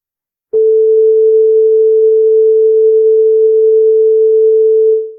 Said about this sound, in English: 440 hertz is the frequency of the sound